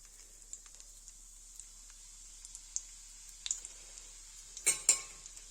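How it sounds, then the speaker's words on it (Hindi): Cumin seeds tempering in hot oil while cooking spinach, a faint steady high sizzle with scattered pops and crackles, ending in a couple of louder clicks as the seeds spit. "इसे डालेंगे जीरा, थोड़ा सा तड़क देंगे।"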